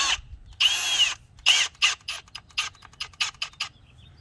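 Masonry bit drilling into a wall to mount a Ring Spotlight Cam plate: close, loud bursts of whining drill, the first ones long, then a rapid run of short stop-start pulses.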